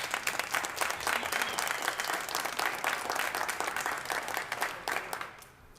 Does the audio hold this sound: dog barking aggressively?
no